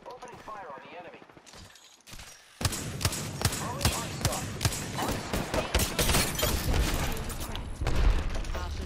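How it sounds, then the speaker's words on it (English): Rapid bursts of gunfire in the Apex Legends video game crackle loudly and repeatedly over several seconds, mixed with voices talking over the shooting. "Opening fire on the enemy"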